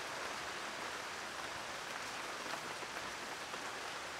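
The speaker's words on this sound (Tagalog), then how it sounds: "O baka yung naririnig nyo yung ulan." Heavy rain falling in Boracay, a steady faint hiss of dense drops with no break, no voices over it.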